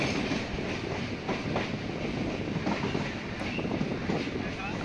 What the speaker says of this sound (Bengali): নির্ধারিত সময় টালা স্টেশন থেকে ছেড়ে আমাদের ট্রেন এগিয়ে চলল বাগবাজার স্টেশনের উদ্দেশ্যে।